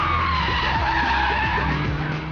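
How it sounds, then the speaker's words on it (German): An Opel Astra H GTC with a two-litre turbo four-cylinder spins its inside front wheel while accelerating through a long curve, a loud continuous tyre squeal over engine roar. "beim Raufbeschleunigen dieser langen Kurve, neigt das kurveninnere Vorderrad durchzudrehen"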